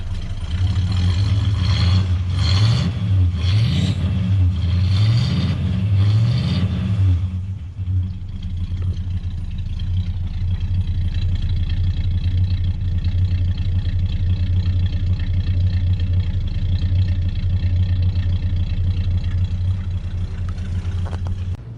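A 1970s Ford Galaxy's engine revs several times in quick, close, loud blips, then settles into a steady, deep rumbling idle that carries on alone.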